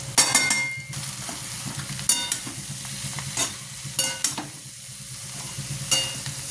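Mashed boiled potatoes with asafoetida and salt are stirred in a hot pan, a steady soft sizzle punctuated by repeated scraping knocks of the spoon against the metal, close and clear without talk.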